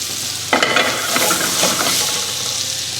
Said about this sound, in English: put the pan back on the heat. Add a liberal amount of butter.